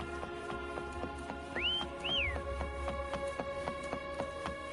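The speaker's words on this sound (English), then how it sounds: "Try whistling." A character whistles to call a companion in the video game Wuthering Waves, two short rising whistle notes, the second swooping down, over a steady game music bed with ticking rhythm.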